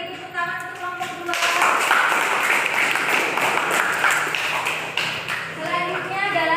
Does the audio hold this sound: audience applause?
yes